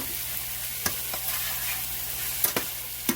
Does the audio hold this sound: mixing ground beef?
yes